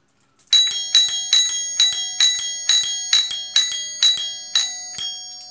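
An electric ding-dong door chime running on 12 volts rings in a steady repeating pattern, about a dozen bright, clear tones each fading quickly before the next, close and loud with no other sound around it.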